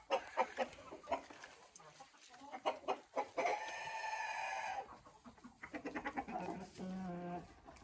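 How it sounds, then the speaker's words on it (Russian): Hens cluck in a farmyard enclosure, with a rooster crowing in a long drawn-out call midway; clucks come in short irregular bursts, fairly quiet and distant, with no talking. "эта курица должна нестись"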